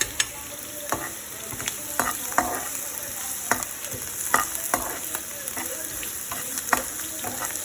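Baby corn, onion and garlic frying in oil over medium heat, giving a continuous close sizzle broken by frequent sharp clicks and scrapes of a spoon stirring in the pan.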